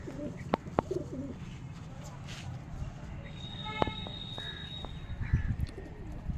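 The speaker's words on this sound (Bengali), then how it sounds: "লফটে কিছু পায়রা আছে" Pigeons coo softly in a loft amid faint chirps and background shuffling, the calls low and somewhat distant with occasional sharper sounds.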